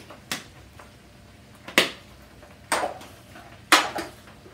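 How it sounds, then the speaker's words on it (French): A spoon strikes the side of a cooking pot while food is stirred, four sharp clinks spaced about a second apart over a quiet background. "Je vais mélanger."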